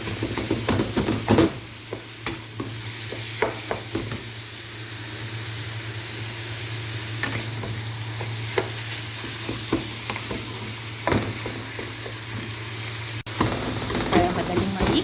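Chicken sambosa filling, about 1.5 kilos of chicken, browning in a pan with a steady sizzle while a utensil stirs and scrapes in irregular knocks, close and continuous, with no talking.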